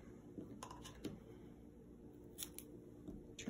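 Scissors trim paper for a handmade greeting card, making a few faint, short snipping cuts scattered over a quiet background.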